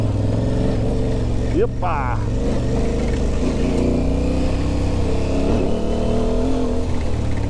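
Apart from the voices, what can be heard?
Aprilia Tuareg 660 motorcycle engine revving in first gear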